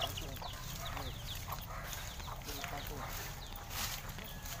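Chickens cluck in a rural backyard, faint clucks and calls scattered over steady outdoor background noise, with voices talking nearby.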